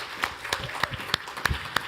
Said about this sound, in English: please let's just give them a round of applause